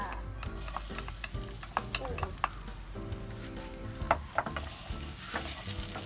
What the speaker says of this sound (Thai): เราจะผัดให้มันหอมหอมหอมมากเลยกระเทียม